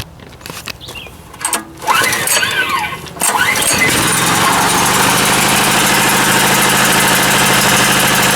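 Portable generator engine cranked with the choke on, a few sputtering pulls and catches, then settling into a loud, steady, close running drone that continues to the end.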